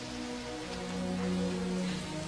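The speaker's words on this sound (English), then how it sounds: "I wish the rain would stop just once." Steady rain falling and pattering on surfaces, a dense continuous hiss at an even level throughout, with no voices.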